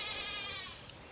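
A goat bleats on a farm, unhappy at being stuck on the wrong side of a fence, a continuous raspy, wavering cry filling the short moment at moderate distance.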